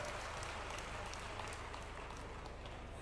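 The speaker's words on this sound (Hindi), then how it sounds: "जोरदार तालियों से इस झीलों की नगरी में स्वागत है" Applause from the audience welcoming the chief minister at a community conference and honour ceremony in Sagar, a continuous dense clatter of many hands, quiet and distant.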